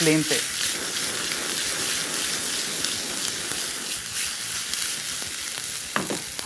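Chicken breast sizzles steadily in a pan over a high flame, a dense continuous frying crackle with a few louder spits near the end, close and fairly loud with no talking.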